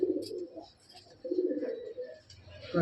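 Red Doma pigeons of antique quality cooing in a loft, soft repeated throaty coos in low rolling bursts, close and fairly clear, with a few faint higher chirps over the top.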